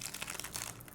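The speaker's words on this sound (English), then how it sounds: "looks like I can just kind of tear right here" Plastic packaging of a Certina DS Action GMT watch being torn open by hand, a quick burst of close, quiet crinkling and rustling over about a second.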